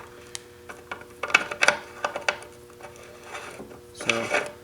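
A 1/2 inch MPT AN fitting threads by hand into a 1JZ engine valve cover, giving scattered light metallic clicks and rubbing scrapes in uneven bursts, close up and fairly quiet with no talking.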